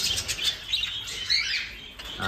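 Big crested canaries of the TCB and Palo lines chirp and tweet inside a flight cage, with rapid, high twittering calls overlapping close by and faint wing flutters.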